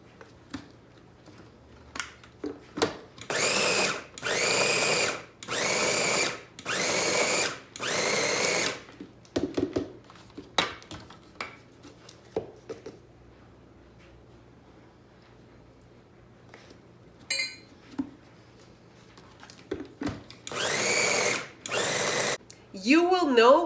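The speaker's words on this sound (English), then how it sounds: "You will know when your dough is ready when the multi-mixer is starting to have a hard time." A multi-mixer blends protein treat dough with water in a run of short, loud whirring pulses, then more bursts later, with quiet clatter and some talk between them.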